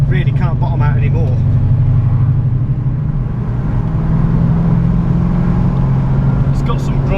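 A 1964 Ford Mustang's engine rumbles and pulls hard from inside the cabin, a deep steady growl that builds in pitch, with people talking over it.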